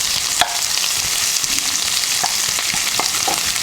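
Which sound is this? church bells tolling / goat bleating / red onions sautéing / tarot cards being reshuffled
red onions sautéing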